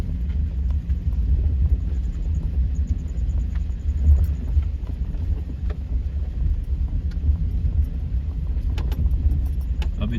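A car creeps slowly along a rough, stony road. A steady low rumble runs under faint rattles and jangling from inside the cabin, with no talk.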